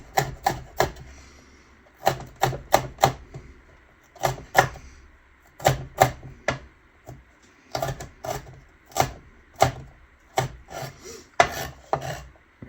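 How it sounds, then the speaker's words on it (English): A knife chops a jalapeño pepper on a cutting board in short bursts of crisp, close taps, grouped in quick clusters with brief pauses between them. "So now I have a nicely chopped up pepper ready to go in the food."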